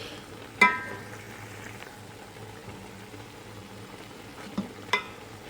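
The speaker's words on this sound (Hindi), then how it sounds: "चिकन को मीडियम से हाई फ्लेम पर पकते हुए 10 मिनट हो चुके हैं।" Chicken cooks in a pan over a medium-to-high flame, giving a quiet steady sizzle broken by a few sharp clanks of a utensil against the pan.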